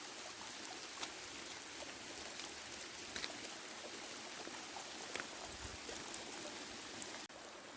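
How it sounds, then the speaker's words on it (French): The Gouët river in the Côtes d'Armor flows over rocks at the Chaos du Gouët, a soft, continuous rush of water with light trickling and no voices, steady and faint throughout. "jusqu'au Gouette, à la rivière du Gouette"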